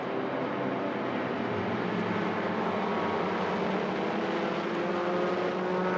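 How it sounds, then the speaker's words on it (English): Touring car engines drone steadily at a distance as cars enter the pit lane during a 300 km race, a continuous blended roar without distinct passes or speech. "We're going to see a more and more steady stream of cars coming into the pits."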